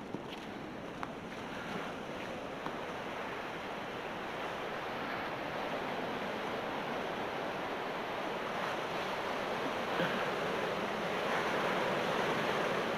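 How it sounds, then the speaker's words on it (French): Rough, agitated sea waves wash and crash continuously below old coastal bunkers in northern France, a steady broad roar of surf with wind, heard from a distance without speech. "Ah, la mer, elle est déchaînée"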